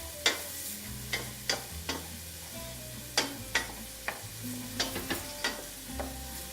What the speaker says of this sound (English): add your shallots to the pan and give those just a little bit of a stir in the olive oil